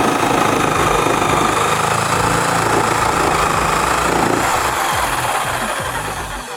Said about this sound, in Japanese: なのでオービタル2でもう一発ここ切ってみたいと思います